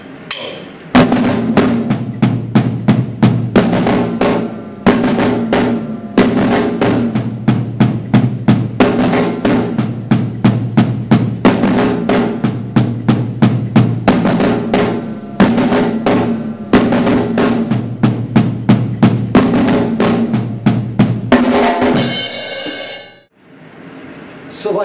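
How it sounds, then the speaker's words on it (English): A drum kit plays a simple groove, with bass drum, snare and floor tom struck in steady, driving repeated hits for about twenty seconds before stopping abruptly. "in fact, he's trading back and forth between his two hands as bass drum."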